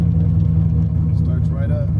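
A car engine cranks and catches, then settles into a steady, loud low rumble at idle; a voice talks over it.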